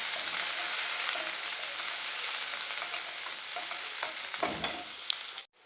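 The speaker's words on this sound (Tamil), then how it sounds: "சின்ன வெங்காயம் பொடியாக இருந்து ஒரு 5 சின்ன வெங்காயத்தை போட்டுங்க" Garlic and finely chopped small shallots sizzle steadily in a hot pan for a home-cooked Tamil dish, a loud continuous frying hiss with occasional stirring clatters and a sharp knock at the end.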